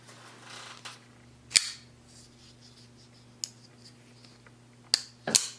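A few sharp mechanical clicks and snaps as a Shiro HatiOn Zero folding knife blade flips open, close and crisp, spaced unevenly in an otherwise quiet room with a low steady hum.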